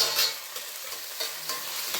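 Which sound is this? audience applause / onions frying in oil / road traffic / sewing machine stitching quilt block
onions frying in oil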